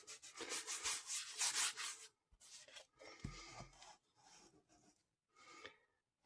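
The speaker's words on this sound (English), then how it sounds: "If you rub your finger over it, you'll be able to feel if it's all gone or not." A finger rubs pencil off watercolour paper in a series of soft, dry scrubbing strokes, close and quiet, growing briefer toward the end.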